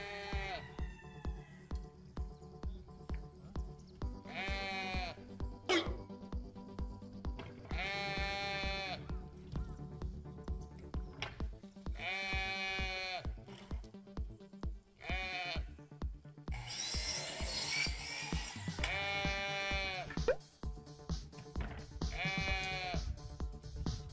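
Goats bleat loudly and close in a series of drawn-out, wavering cries spaced a few seconds apart, over a low background hum.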